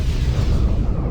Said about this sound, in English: we got cannon fire